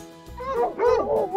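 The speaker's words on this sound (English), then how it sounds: "Fox." A fox gives a quick series of high, yelping barks and whining cries, close and fairly loud, rising and falling in pitch, with no one talking.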